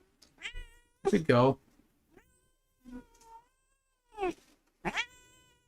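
A cat meows several times in drawn-out, wavering cries between quiet pauses, with a person speaking briefly nearby.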